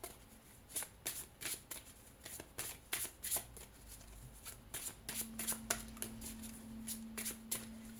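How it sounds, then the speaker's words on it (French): Playing cards are shuffled by hand up close, a quick series of crisp riffling bursts and soft taps in irregular rhythm, quiet and alone with a faint steady hum in the latter part. "Je vais tirer 4 cartes de chaque tas. Je vais les remélanger."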